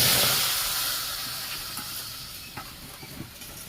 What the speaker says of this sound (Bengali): পিঠে তৈরি করার জন্য গ্যাসে একটা কড়াই বসিয়ে নিয়েছি, ওতে অল্প জল দিয়ে দেবো।